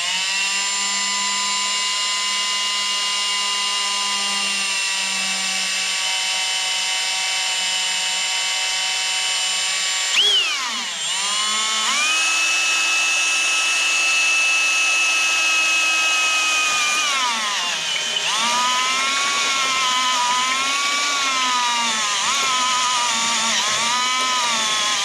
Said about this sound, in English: we're gonna have to drill out these spot welds